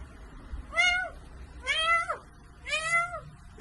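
A man imitates a cat with his voice, producing three drawn-out, rising-and-falling meows spaced about a second apart, close and clear over a quiet background.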